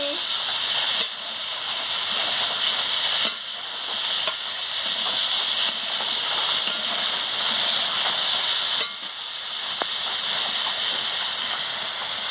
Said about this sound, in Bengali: আলু আর পনিরটা দিয়ে দিচ্ছি, দিয়ে ভালো করে মশলার সঙ্গে কষিয়ে নিচ্ছি